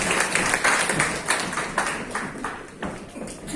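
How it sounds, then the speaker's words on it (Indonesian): Congregation clapping hands during a Sunday church service at a theological college, an uneven burst of applause with separate claps standing out, fading somewhat toward the end. "tepuk tangan dulu buat mereka"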